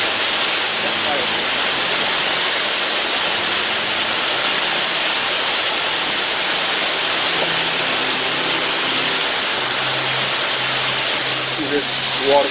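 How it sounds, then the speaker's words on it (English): A springtime waterfall outdoors, a steady loud broadband rush of falling water filling the whole stretch, with faint low rumble underneath. "See this waterfall there."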